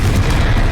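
Confringo spell blast in Hogwarts Legacy, a brief loud booming burst that fills the whole clip.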